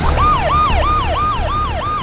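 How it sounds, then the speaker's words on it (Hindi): A red fire engine in a cartoon sounds its wailing siren, rising and falling in a steady repeating cycle, loud and close with no voices. "तभी अपनी पूरी रफ्तार के साथ एक लाल दमकल की गाड़ी आग की लपटों को चीरती हुई आगे बढ़ती है।"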